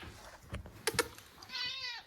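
A cat gives a short meow near the end, preceded by a few soft thumps and clicks, faint and close.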